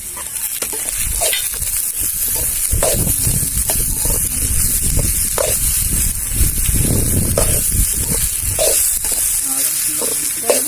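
Chopped tomato and tamarind sauté in a pan for a spicy kara chutney: a loud, continuous close sizzle broken by repeated scraping stirs at an irregular rhythm.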